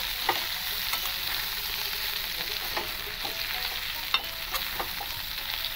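Spice paste frying for a vegetarian shukto, a steady close sizzle broken by scattered light taps and scrapes of a spatula stirring in the pan.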